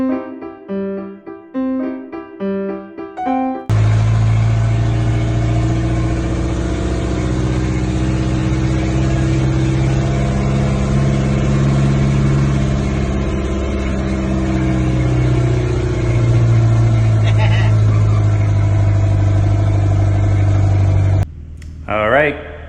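Once-abandoned truck, revived after over ten years of sitting, runs at a steady idle for a long stretch, a loud close rumbling engine, with a brief burst of other sound at the start and end.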